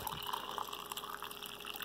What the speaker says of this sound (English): So I'm just going to put almost boiling water.